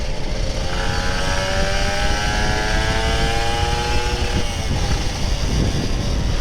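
An old Kawasaki Ninja RR 150 two-stroke motorcycle engine roaring steadily with rising and falling pitch as it revs, under constant wind-like rumble.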